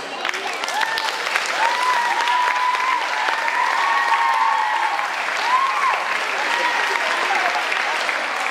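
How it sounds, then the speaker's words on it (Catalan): Sustained crowd applause at the election of Anglès' Pubilla and Hereu, steady and full throughout with a voice or whistle-like tone riding faintly above it. "un fort aplaudiment per ells"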